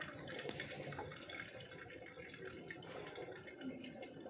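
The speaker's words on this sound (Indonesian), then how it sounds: "kita buka keran ini" Water runs from an opened tap on a PLC trainer kit setup, a quiet, continuous splashing trickle with faint drips, steady throughout.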